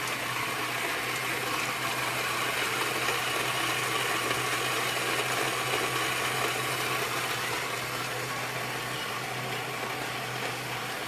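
A Curtis Gold Cup coffee brewer running just after start, brewing a large 40-ounce pot: a steady, continuous hiss of water and a low mechanical hum, even and unbroken throughout, with no voices.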